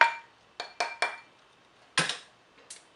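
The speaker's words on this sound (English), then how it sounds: "Gonna give it a little whack with my rawhide mallet" A rawhide mallet strikes a metal ring on a steel ring mandrel, several sharp, close metallic taps in irregular quick pairs and triplets, each ringing briefly before fading.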